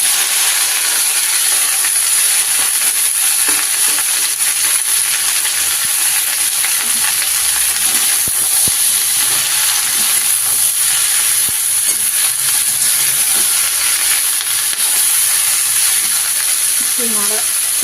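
Bottle gourd greens and potato fry in a hot pan with tempering spices, a steady close sizzle and hiss running throughout, broken by faint stirring scrapes and the odd small clink.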